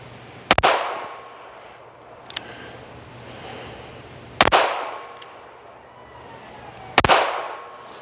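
A switchblade gun fires outdoors, with three sharp, loud gunshots spaced several seconds apart as the cylinder is emptied. Each crack has a short echoing tail, and a faint click falls between the first two shots.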